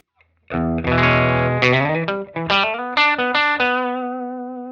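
An electric guitar played through an overdrive pedal gives a mildly broken-up tone like an old 1950s amp, a run of sustained notes and chords that rings out clearly and alone before fading.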